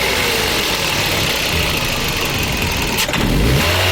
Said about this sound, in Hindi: ये देखा आपने कितनी ज़बरदस्त ये नॉकिंग कर रही है।